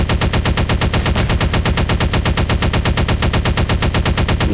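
A rapid-firing weapon in Garry's Mod sandbox rattles off a long, steady automatic burst, close and loud, with evenly spaced shots and no talking.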